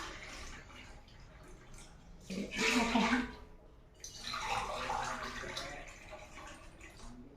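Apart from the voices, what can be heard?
water being poured into a pot from a glass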